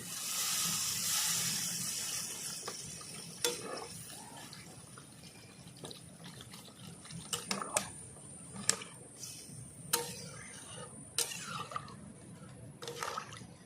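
Water is poured into a pan of sautéed chui stalks and hits the hot pan with a loud, broad sizzling hiss that gradually settles into a softer simmer, broken by scattered small clicks and taps from the pan.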